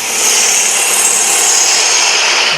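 A wood lathe rough-turns a wooden sphere while a gouge rounds off its corners, giving a steady, close, continuous scraping hiss that holds evenly for a couple of seconds with no voices.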